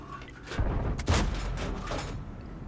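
Heavy cannon fire from a German premium tank destroyer in World of Tanks: two booming shots about half a second apart, each with a rolling tail over battle ambience.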